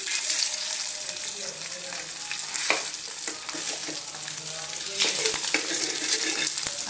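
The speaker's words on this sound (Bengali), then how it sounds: "আমি ডিমটাকে ভেজে নিলাম।" An egg fries in oil, giving a dense continuous sizzle close by with a few crackles and spatula scrapes, with no talking.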